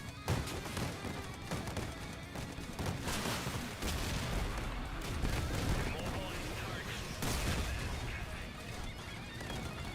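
Rapid video game gunfire with dense bursts of shots and crashing impacts, loud and nearly continuous, with a voice underneath.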